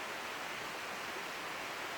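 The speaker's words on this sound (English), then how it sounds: "So that waterfall is Glenbrook." Glenbrook, a small creek waterfall in an early-spring garden, gives a continuous soft broadband rush of falling water, even and unbroken throughout, heard faintly at a moderate distance with no voices.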